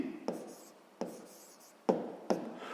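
A pen scratches across paper in a few short strokes, four distinct pen-down marks with soft scratching between, close and quiet, while a math exercise is worked through.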